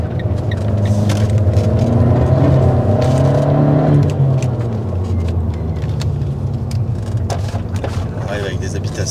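A car on a rally-region road accelerates hard while catching a Peugeot, its engine rising in a loud, close, steady roar that drops slightly in pitch midway, with road rumble beneath.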